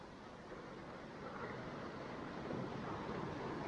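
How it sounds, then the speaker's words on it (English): Heavy rain pouring outside a window, a dense steady hiss that grows slightly louder toward the end, with no voices. "As you can see, it is pouring outside."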